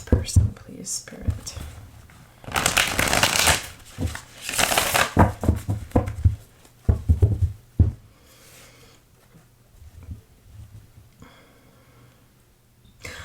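Tarot cards are shuffled in close, crisp riffling bursts mixed with soft whispering and light handling noises, quieter pauses between the shuffles.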